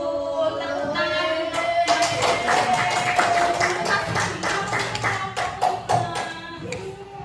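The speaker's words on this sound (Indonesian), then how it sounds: "Betul, tepuk tangan." A classroom of students clapping hands in applause during a lesson, a dense, continuous patter of many claps lasting several seconds, with a tonal voice or whistle-like line running faintly underneath.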